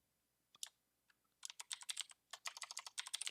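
Quick bursts of keystrokes on a computer keyboard, close and fairly quiet, starting with a few isolated taps and then settling into steady rapid typing with a short pause in the middle.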